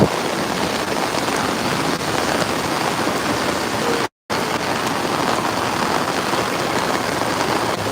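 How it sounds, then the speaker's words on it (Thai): Steady heavy rain pours down outdoors, a dense continuous hiss with no voices, broken by one brief dropout midway. "นี่เป็นบรรยากาศฝนตกนะครับ"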